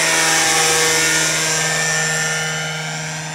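A Vario Dauphin model helicopter in flight gives off a steady, loud, high-pitched rotor and motor whine that fades gradually as it moves away, with no voices.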